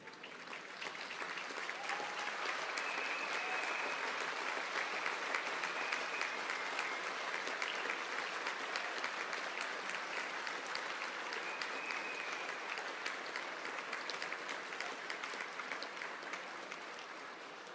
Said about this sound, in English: maybe give them a round of applause for all they've done for you along this journey